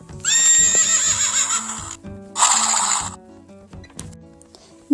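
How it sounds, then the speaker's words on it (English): Horse neighing in a loud, drawn-out whinny, followed by a second shorter whinny and a few faint hoof clops, set over soft background music from an animal-sounds flash card set. "Horse."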